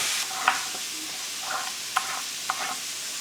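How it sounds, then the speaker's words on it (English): Chicken sears in a hot pan, giving a steady close sizzle broken by a few sharp clicks and scrapes as it is nudged. "let's just let it sear on that side"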